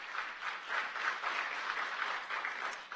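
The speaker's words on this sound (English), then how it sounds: "Let's give Clear Springs High School one more round of applause." Audience applause for a high school group at a Veterans Day event, a steady wash of many hands clapping at moderate distance for the full three seconds, fairly faint with no speech.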